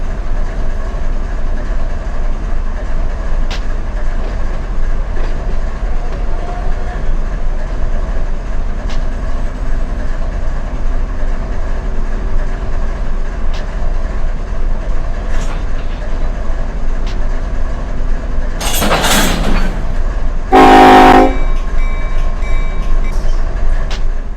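Freight train in the Run 8 simulator during a switching move on a branch line, a steady low rumble of locomotive and cars throughout, with two brief loud hissing bursts near the end, likely air release.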